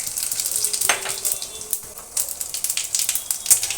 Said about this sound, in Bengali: তেল গরম হয়ে গেছে, এবার ফোড়ন দিয়ে দিচ্ছি